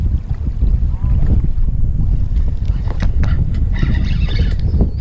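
Strong wind batters the microphone on a boat during a webfoot octopus fishing trip at Baeksajang port, a loud continuous rushing roar with faint clatter and creaks near the end.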